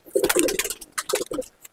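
Close, brief throaty cooing from Malwai pigeons in a loft, several rolling coos packed into under two seconds.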